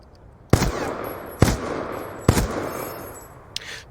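Gunfire in Call of Duty Black Ops 2, three sharp shots spaced nearly a second apart, each with a ringing tail, then a fainter fourth crack, with no talking.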